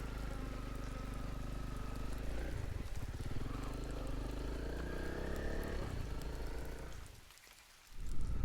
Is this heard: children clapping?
no